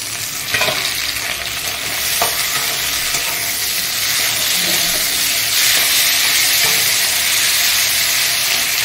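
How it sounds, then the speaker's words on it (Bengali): Green chilies and tomatoes go into a pan of lightly browned onions for a hilsa-head and taro-leaf curry, giving a loud, steady sizzle with occasional stirring scrapes throughout. "আমি এবার দেবো কাঁচা লঙ্কা আর টমেটো।"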